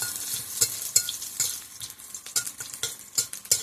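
Onions sizzle and fry in a small amount of oil while being stirred, with steady crackling and repeated scraping strokes of a utensil against the pan, close and moderately loud, no voices.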